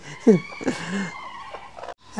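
A broody hen gives a few short, sharp clucks close by as she is set to brood, with faint rustling and a soft voice in the background.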